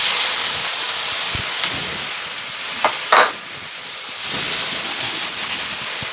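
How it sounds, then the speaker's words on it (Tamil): Onions and chillies sizzle and sauté in hot oil in a pan, a steady frying hiss throughout with a couple of brief louder stirring scrapes near the middle, no voices. "ஒயில விட்டு இதை நான் எல்லாத்தையும் போட்டு வதக்க போகிறோம்"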